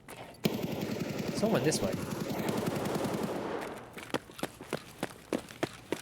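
Gunfire in a video game: rapid automatic bursts rattle for several seconds, then give way to sharp, spaced single shots, with a voice talking over the action.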